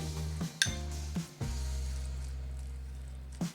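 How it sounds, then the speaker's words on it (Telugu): A spoon scrapes and clinks against a container while an oats mixture is stirred for overnight oats, with a few sharp metallic taps and a low ringing hum between them and no talking. "బాగా ఓట్స్కి బాగా పట్టేసే విధంగా మిక్స్ చేసేసుకోండి"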